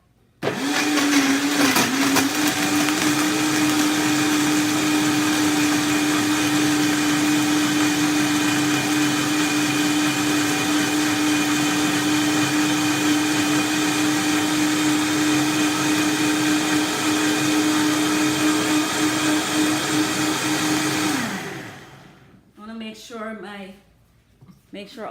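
A countertop blender whirs steadily for about twenty seconds, blending a green smoothie of spinach and ginger, loud and close, then winds down and stops, followed by brief clatter.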